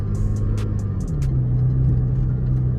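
A V6 Camaro fitted with an oversized 80mm throttle body idles with a deep, steady rumble heard from the driver's seat, its pitch dipping slightly partway through, loud and continuous with faint clicks above.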